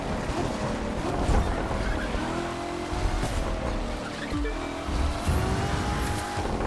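A Corvette C7 ZR1 convertible drives in the racing game The Crew 2, its engine droning steadily with hints of tire squeal and wind rush over several seconds.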